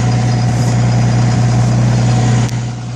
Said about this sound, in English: Cold start cummins.